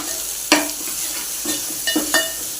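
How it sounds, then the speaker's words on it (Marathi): A spatula stirs red chili powder and salt in a pan for a sprouted mung bean curry. Several distinct scraping strokes cut over a soft, steady sizzle, with no voices. "हे चांगलं परतून घ्यायचं"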